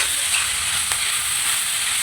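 Onions and tomato frying in a pan, giving a steady, loud, close sizzle and hiss that carries on without a break, with no voices.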